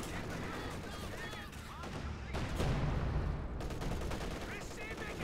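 A video game unit fires constantly in a 1v1 elite match: dense, continuous bursts of gunfire with heavier booming shots, steady and loud throughout, with faint voice underneath.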